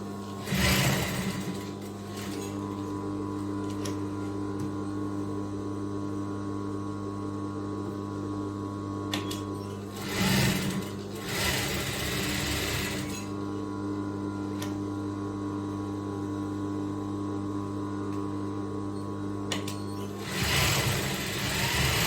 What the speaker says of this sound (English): So we're going to stitch it all around.